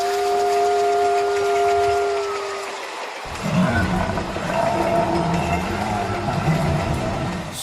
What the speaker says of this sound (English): Scary commuter train.